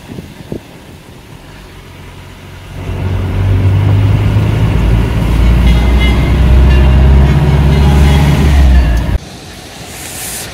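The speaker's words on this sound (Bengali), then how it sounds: "কুয়াশাচ্ছন্ন রাস্তা দিয়ে ছুটে চলেছে গাড়ি" A car runs along a foggy road near Kalimpong, its engine and road rumble swelling up after a quieter start, holding loud and steady, then dropping away abruptly near the end.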